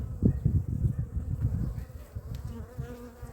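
Honeybees from a weak colony buzz inside a polystyrene hive after wintering: a close, low, steady hum that swells and fades a little, with no voices.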